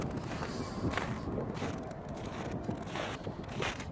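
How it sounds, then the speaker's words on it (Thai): Outdoor wind at sunset in Finland: a broad, steady rushing noise with gusty swells and brief buffeting bursts, moderately loud and close, with no voices. "เสียงลม สวย ๆ ค่ะ"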